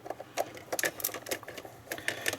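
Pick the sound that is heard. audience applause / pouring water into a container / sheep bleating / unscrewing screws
unscrewing screws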